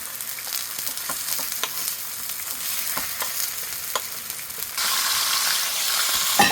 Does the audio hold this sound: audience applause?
no